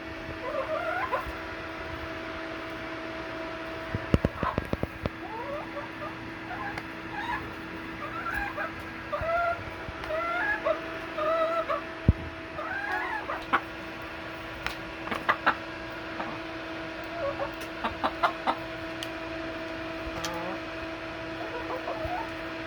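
Backyard chickens cluck and chirp softly in short, scattered calls while eating organic blueberries, over a low steady hum, with occasional faint thumps.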